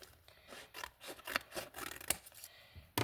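Scissors snip and rasp through a crinkly plastic bag in several short cuts, close up, with rustling between snips and no talking.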